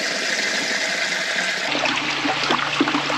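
Water-soluble fertilizer solution drawn up from a bucket and running through a line on a small Pennsylvania farm, a steady, loud trickle and hiss of flowing liquid that turns fuller and splashier partway through.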